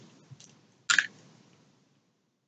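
A caramel corn or moldy cheese flavored jelly bean candy is bitten and chewed up close, with one short squishy crunch and a few faint soft chews before silence.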